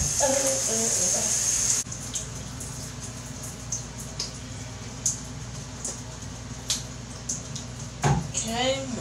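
Tap water runs steadily while hair is washed, with a broad continuous rush that briefly eases, small splashes and knocks, and a voice speaking near the end.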